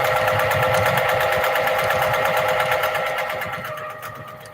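Sewing machine stitching fabric, a rapid steady mechanical whir with fine regular needle ticks that slows and fades near the end, heard up close with no talk.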